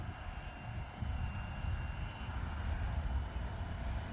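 A giant RC helicopter comes in to land, its rotor and motor giving a loud continuous low-pitched roar with a steady high whine above, close by and without talking.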